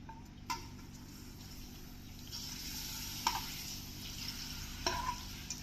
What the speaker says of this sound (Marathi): आता आपण पापड तळून घेऊया